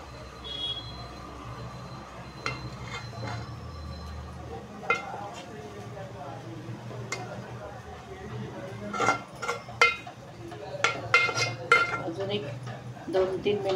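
Eggs being turned over in a cooking pan while making egg masala, with a few scattered metallic clinks and scrapes of a utensil against the pan over a low background hum, growing busier toward the end.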